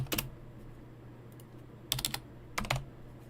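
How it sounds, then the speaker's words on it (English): Brief clusters of clicky keystrokes on a computer keyboard, close and fairly quiet, separated by pauses against a soft background hum. "Wow, typing."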